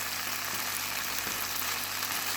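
Bacon fries in a pan next to stewing tomatoes, giving a steady, close, broadband sizzle with soft crackles and no pause.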